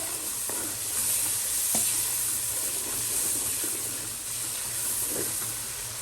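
Mutton karahi masala frying with yogurt in a pan, a continuous hissing sizzle with steam, occasional soft stirring taps and scrapes, close and even in level with no voices.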